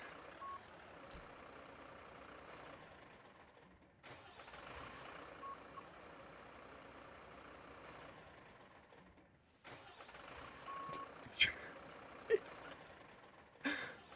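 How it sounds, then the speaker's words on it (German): Fire truck engine in a video game starts up, runs at a steady hum, cuts out, then starts again, with a few sharp clicks near the end. "Motor an, Motor aus, Motor an,"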